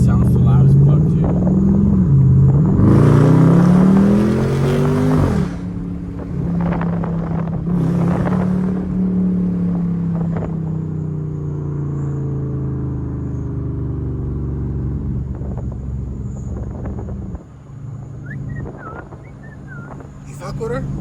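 A Dodge Durango SRT engine revs hard and then settles into a loud, rumbling drive, pitch rising and falling as it accelerates through the night, with people talking over the engine noise inside the cabin.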